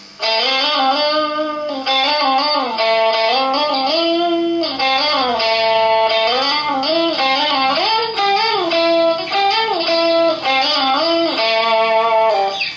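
A distorted, effects-laden electric guitar lead melody glides between notes with smooth slides and bends, sustained and loud, played alone without any talking.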